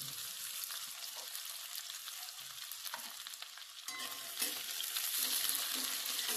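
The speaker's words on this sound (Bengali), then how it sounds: "এটা জাস্ট 10 সেকেন্ড ভাজা হতে হতেই এর মধ্যে দিয়ে দেবো কেটে রাখা পেঁয়াজ" Chopped onions fry in hot oil with cumin, a steady close sizzle and crackle that continues throughout with a faint stir partway and no talking.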